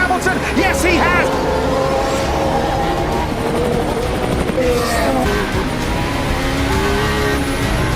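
Formula 1 cars surge away at a race start, a dense, loud roar of many engines rising together and streaming past, with a commentator talking over the din.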